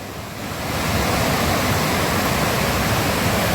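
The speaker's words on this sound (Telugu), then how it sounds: "అడవి మధ్యలో తుంబా వాటర్ ఫాల్స్." Thumba waterfall in the middle of a forest, a loud, steady roar of falling water heard up close, swelling in the first second and then holding constant with no talk.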